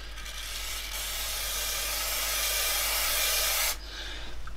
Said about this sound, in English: I have got some adhesive spray.